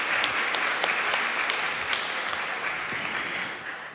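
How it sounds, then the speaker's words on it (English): An audience at a conference session on regional projects claps for a presenter, a moderately distant patter of many hands that holds steady and then tapers off toward the end. "A big hand of applause for Alina."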